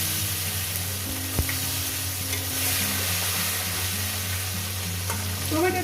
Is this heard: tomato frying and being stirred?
yes